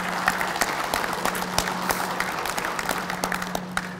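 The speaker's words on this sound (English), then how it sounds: "can we give them a round of applause as well?" An audience at a DAV membership seminar claps in a steady round of applause, a dense patter of many hands with a few sharper claps standing out, indoors and moderately close, with no one talking.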